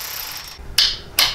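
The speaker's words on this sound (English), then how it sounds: "So right now, he's just driving them in until they touch, and then we'll go ahead and torque them down." A ratchet drives bolts in while installing black powder-coated parts on a Harley Touring motorcycle, heard as two brief, sharp bursts of clicking close up against a quiet background.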